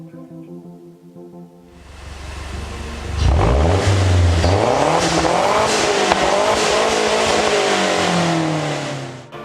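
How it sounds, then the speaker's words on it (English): A car engine is revved hard after a quiet idle, climbing and falling through several loud, rising sweeps that sound close, then sustained roaring before easing off at the end. "Enough of me revving like an idiot"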